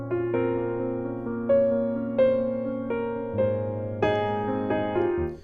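Solo piano plays the second part of a song's verse, a sequence of sustained chords struck every second or so, each ringing and decaying before the next, close and clear with no voice.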